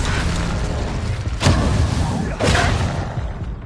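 The Bombarda spell blasts in the video game Hogwarts Legacy: two loud, heavy booming bursts about a second apart over a dense rumbling game background, with no voice over them.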